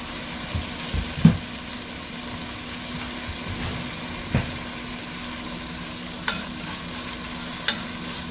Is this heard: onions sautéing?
yes